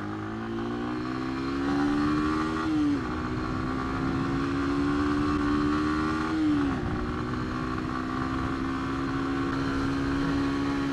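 Lexmoto motorcycle ridden flat out, its engine droning loud and steady at high revs with two brief dips as gears change, a continuous close-up roar throughout.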